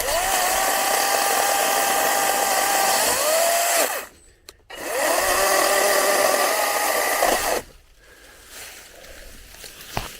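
A 20-volt Wild Badger chainsaw with a 12-inch bar cuts through a fallen tree in two loud, whining bursts of about four and three seconds, separated by a brief pause, before falling quiet outdoors.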